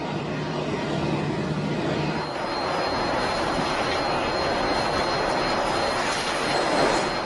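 Boeing 747-8 jet engines roaring steadily during an in-flight load test, a loud, continuous broadband rush heard from inside the aircraft, with a faint low hum early on and no talk.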